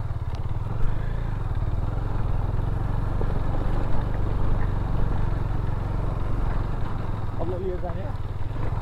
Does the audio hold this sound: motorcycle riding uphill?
yes